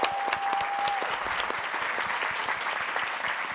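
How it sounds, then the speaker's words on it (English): An audience at a writers conference awards ceremony applauds the winners, a fairly faint, steady wash of many hands clapping with a few sharper individual claps standing out, and a brief tone audible at the start. "Let's have another round of applause for those amazing winners"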